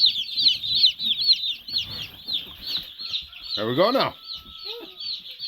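Young meat chickens chirp and cluck constantly at close range in high, busy peeps, while someone speaks briefly partway through.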